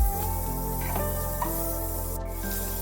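Chopped garlic and thinly sliced onion fry in a pan with a constant loud sizzle, while a spoon stirs them in a few scraping strokes, close up and without talking.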